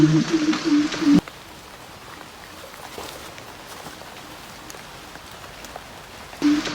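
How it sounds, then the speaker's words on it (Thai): Heavy rain pours onto the forest around a treehouse during the rainy season, with runoff streaming down a creek below. It makes a steady, dense patter throughout. A voice talks briefly at the start and again at the end. "ฝนตกเยอะมาก ๆ เลย ตอนนี้น้ำป่าก็ไหลมาทาง ทางลำธาร"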